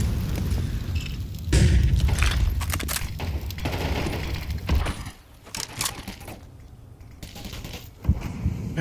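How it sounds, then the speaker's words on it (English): Grenade blasts in a Counter-Strike match on Inferno, heard as repeated heavy booms and thuds mixed with bursts of gunfire, continuing across the stretch. "Great nades."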